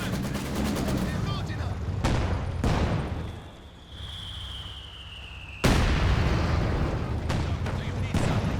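Heavy mortar shells and gunfire crash and boom in a Company of Heroes 2 World War II battle, loud dense bursts with a brief lull in between, mixed with other game noise.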